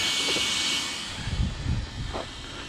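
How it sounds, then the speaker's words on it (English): A Traxxas 4-Tec 3.0 RC car with a brushless conversion and a very noisy cooling fan running on 3S gives a steady high turbine-like whine with hiss, close by, while lower rumbling pulses from the drivetrain rise beneath it. "Sounds a bit like the car's got a turbine on board it."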